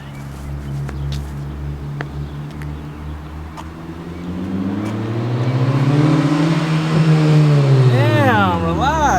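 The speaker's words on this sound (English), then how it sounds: "you trying to hit vtec in the parking lot?" A Honda Civic stance car revs hard in a parking lot, engine pitch climbing steadily from a low idle to a loud high-rpm VTEC wail that sweeps up and down near the end, with people talking over it.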